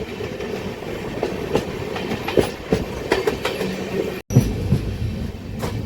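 Satavahana Super Fast Express at Cherlapalli railway station, Hyderabad, just after rain: a loud, steady rumble of railcars with clickety-clack wheel knocks and faint squeals, plus a brief dropout near the end.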